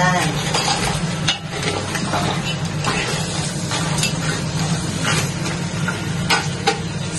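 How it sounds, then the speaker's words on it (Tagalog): Cajun seafood with crabs stirred in a frying pan, giving a steady sizzle with scraping and clinking of the utensil against the pan, close and continuous, with a low hum underneath. "Stir lang natin siya."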